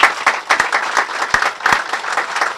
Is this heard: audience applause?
yes